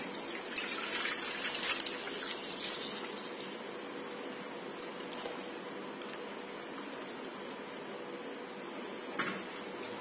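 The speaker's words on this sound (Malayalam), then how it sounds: "ഞാനിപ്പോ ഇങ്ങനെ ഇട്ട് കൊടുത്തതിന് ശേഷം നമുക്കിത് പാലൊഴിച്ചു കൊടുക്കാം." Milk poured into a container with a spoonful of starter culture to make thick homemade curd, a faint continuous trickle and dribble of liquid lasting throughout, with no talking.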